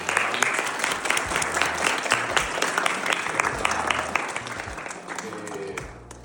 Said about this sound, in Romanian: aș vrea să-i aplaudăm pe cei care au prezentat